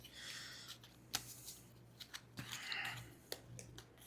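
A deck of playing cards is shuffled during a tabletop game of Gates, giving quiet, close riffles and soft slaps in short irregular bursts, with a few sharper clicks of cards knocking together.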